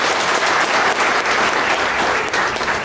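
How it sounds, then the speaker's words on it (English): Dense, steady audience applause at a public event honoring a congresswoman in Bengaluru, loud and continuous with many hands clapping at once and no talk over it. "A big round of applause, please."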